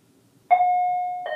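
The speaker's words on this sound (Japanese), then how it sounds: "じゃあ、インターホン押しますよ。" An intercom doorbell at a house in the Sakura School Simulator game rings after a silence: a clean electronic chime held for most of a second, then a second tone starting, loud and close.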